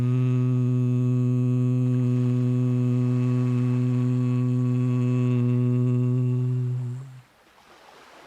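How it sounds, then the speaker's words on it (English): A steady, deep voiced hum on a long exhale during a relaxation breathing exercise, rich and sustained for about seven seconds before fading out into quiet room noise. "as we exhale, we'll make a humming sound"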